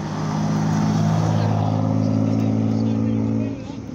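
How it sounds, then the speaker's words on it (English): A BMW M4 drives past at a car meet at the Lock Keeper Inn in Worksop, its engine a loud, steady droning growl nearby that drops away sharply near the end. "Here comes the BMW M4."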